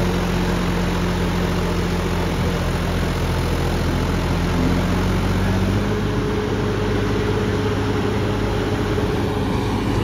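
A John Deere 5075E tractor with a modified pump idles in a loud, continuous, steady drone, close up and unchanging, with a constant high-pitched whine running above the low engine rumble.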